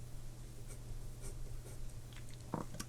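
A pencil draws a curve on paper, making soft, faint scratching strokes over a low steady hum, with a sharper scrape near the end.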